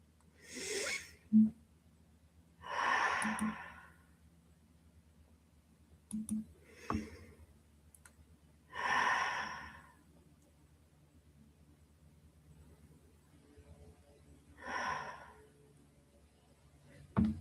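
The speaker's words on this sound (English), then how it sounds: "take a couple of deep breaths" Several slow, deep breaths taken close by in a quiet room during a guided relaxation pause, each a soft airy rush a second or so long, spaced a few seconds apart with near silence between.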